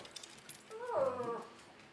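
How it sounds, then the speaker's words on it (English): Indoor dogs react to a phone notification with one short, high whine that rises and falls about midway through. It is faint and quiet against low room hiss. "the dogs think that means somebody's here"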